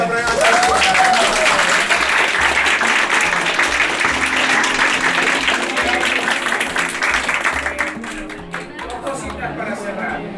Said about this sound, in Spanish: Un aplauso a esta primera.